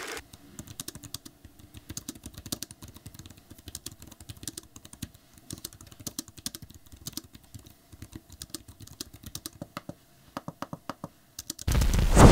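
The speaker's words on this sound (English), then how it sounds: "here's a sound test of both the trackpad and keyboard" Keys of an Inateck iPad keyboard case and its trackpad are tapped in rapid, uneven clusters of light plastic clicks, close and alone, with a louder burst of clicking at the very end.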